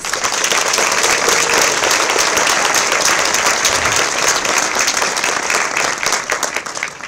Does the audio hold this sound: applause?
yes